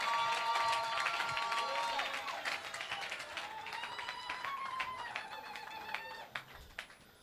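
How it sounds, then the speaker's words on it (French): Church congregation applauding together, a dense steady patter of many hands with voices and singing mixed in, thinning into a few scattered claps near the end. "Applaudissez pour le Seigneur."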